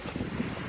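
Steady breeze rushing past on a sailboat moving at about five knots over flat water in the St Louis River estuary, heard as a brief, even wind noise up close.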